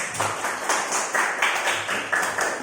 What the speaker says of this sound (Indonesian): Tepuk tangan untuk kelompok kendang